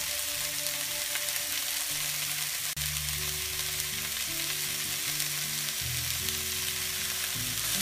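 Sri Lankan kottu is stirred in a frying pan, producing a loud, unbroken sizzle with light stirring scrapes and a steady tonal background, with no one speaking.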